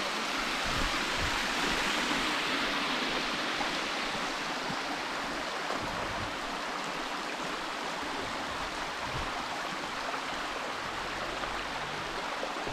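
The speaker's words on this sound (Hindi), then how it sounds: "अपने आप पत्तों से एक डैम बन गया है, पानी धीरे धीरे इसमें रिसता है।" A forest stream near Nainital in Uttarakhand flows where fallen leaves have formed a natural dam, giving a steady, soft, even rushing of water with no voices.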